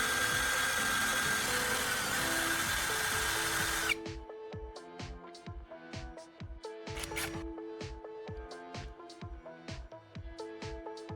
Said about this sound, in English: I'll use a piece of sandpaper while the drill is running to create a fine pointed tip.